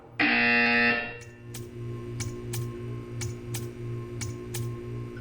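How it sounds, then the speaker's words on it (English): A loud, harsh buzzer blares for about a second in the video game Portal 2, then stops, leaving a steady hum with regular faint ticking clicks. "You will hear a buzzer."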